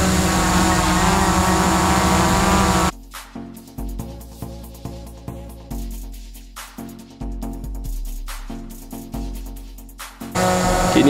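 A DJI Mavic Pro Platinum drone, its motors repaired, flies just after take-off with a dense propeller whine that surges and dips in repeated pulses as it maneuvers, loud and close, framed by louder steady sound at start and end.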